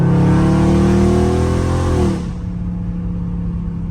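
A loud Dodge Charger Scat Pack engine revs high for about two seconds, then drops abruptly to a lower, steady growl as the car downshifts in sport mode in traffic.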